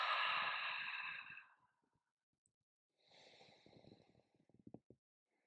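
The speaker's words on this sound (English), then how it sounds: "And exhale." A long, open-mouthed exhale during a relaxation exercise, loud and close, fading out, followed after a pause by another breath with soft rustling and a few small taps.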